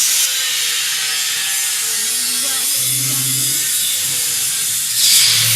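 Grinding and cutting noise from removing a Toyota Tacoma cab mount to gain tire clearance, a steady harsh metallic rasp that runs throughout, with a louder burst near the end.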